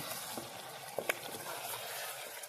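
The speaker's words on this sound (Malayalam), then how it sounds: "സ്പീഡ് കൂട്ടിയിട്ട് ഇതുപോലെ തിളക്കുമ്പോൾ ഒന്ന് ഇളക്കി കൊടുക്കണം." Masala bubbling in coconut oil gives a soft, steady sizzle, fairly faint and close, with a couple of sharp clinks from stirring partway through.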